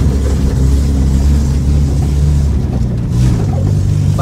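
A Chevrolet Celta with a blown, loose exhaust idles and rumbles loudly up close, a deep, raw, unmuffled drone with slight revving swells throughout.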